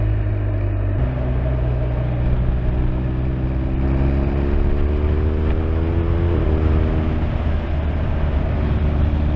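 A motorbike accelerating hard as the throttle is pulled back, its engine note climbing steadily in pitch over several seconds, close and loud over constant road and wind rush.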